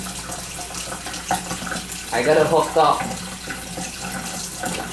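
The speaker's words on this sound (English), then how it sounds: "That's not good water pressure." Water runs from a newly installed kitchen sink faucet with poor pressure, a steady hiss with a brief louder gush, while people talk over it.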